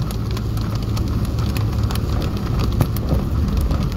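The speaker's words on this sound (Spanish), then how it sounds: "con poquito que llueve se laguna" Heavy rain pours steadily onto a flooded street on Avenida del Niño in Tamaulipas, Mexico, a dense continuous hiss with scattered drop impacts, close and fairly loud, with no talking.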